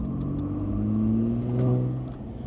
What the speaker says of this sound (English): a little bit more just induction noise that you would get kind of like on an NA engine